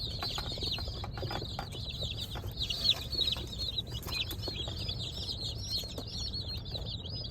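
A batch of young chicks in their coop on a farm, a dense chorus of high, rapid peeping from many birds, close and continuous, with soft rustling beneath.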